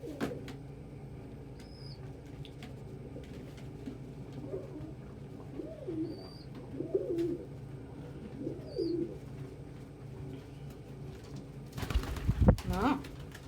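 Pet pigeons or doves coo indoors, a series of soft, rounded coos repeating every second or so at moderate distance, followed near the end by a brief burst of wing flapping or rustling against a low room hum.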